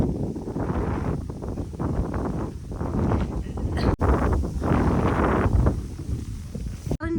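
Wind blows outdoors at Vagamon, gusting in rough, uneven bursts of buffeting across the microphone, loud and close with brief dropouts.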